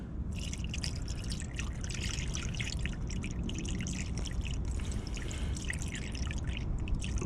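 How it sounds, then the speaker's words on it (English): Diesel fuel pours into the fuel filter of a Freightliner Cascadia, a continuous liquid splashing and trickling with small drips, close and steady throughout with no talking. "Get you some diesel, pour it in here."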